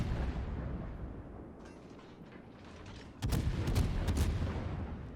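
Naval gunfire in the World of Warships game, a steady rumbling barrage of shell fire and distant explosions, growing louder with a burst of sharp, heavy blasts in the second half.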